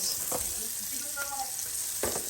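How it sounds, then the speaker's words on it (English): Burger patties seasoned with garlic powder, onion flakes, pepper and salt sizzle steadily in a pan, with a few louder spatters and scraping stirs breaking through the continuous hiss. "we're just going to cook these down for our burgers tonight"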